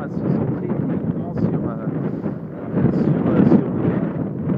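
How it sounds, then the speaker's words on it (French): Outdoor wind buffets the microphone in a steady, loud rumble with gusts rising and falling throughout, no speech over it. "Il y a du vent"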